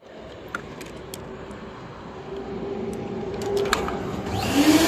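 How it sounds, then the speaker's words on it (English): A dryer blows air with a steady whoosh, gradually growing louder and rising in pitch over a few seconds, with some light clicks. "And that is a dryer."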